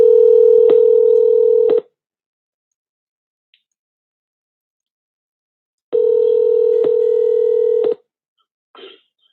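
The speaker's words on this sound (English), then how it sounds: "I'm getting Yusef on the phone lines" Telephone dialing tones sound as a phone line is connected, two loud steady tone bursts of about two seconds each separated by silence, followed by a brief soft click near the end.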